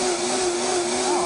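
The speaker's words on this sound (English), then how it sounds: "this is a high powered blender. I'm going to turn it on for a few seconds." A high-powered blender runs steadily, whirring cashew cheese with a loud, constant motor drone and a slight pitch shift near the end, with no talk over it.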